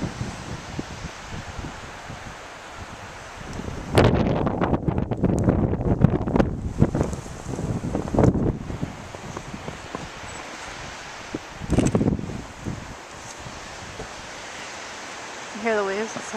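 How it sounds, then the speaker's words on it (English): Ocean waves washing onto a snow-covered shore with gusting wind buffeting the microphone, a steady broadband roar with louder surges, and a voice speaking briefly over it. "You hear the waves? It's so cool."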